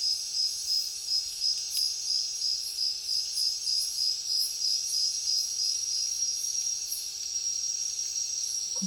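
Crickets chirp in a forest along the Lataguri jungle highway, a loud steady pulsing trill that holds throughout with a faint low hum beneath.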